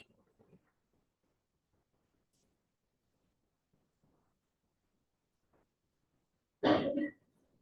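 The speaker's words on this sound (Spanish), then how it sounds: "ya están tosiendo" A single short cough-like burst from a person in an online class, loud and abrupt near the end after a long stretch of near silence with faint scattered noises.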